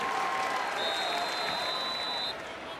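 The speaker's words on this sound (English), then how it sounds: "And the student section down there applauding for Carter." College students in the stands at a Clemson vs Pitt football game applauding, a broad distant wash of clapping and crowd noise with a steady tone running through it, fading slightly toward the end.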